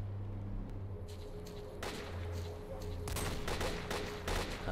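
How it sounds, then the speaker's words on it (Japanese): Gunfire in the video game S.T.A.L.K.E.R. Clear Sky: bursts of rapid shots crack out repeatedly, some distant and some closer, over a steady low background hum. "めっちゃ銃声がしてる"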